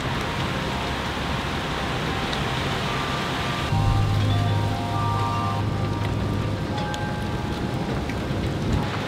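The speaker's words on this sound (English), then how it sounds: "Here comes the rain." Steady rain hisses with low thunder rumbling in the background, swelling briefly midway, a constant moderate wash of storm noise with no voices.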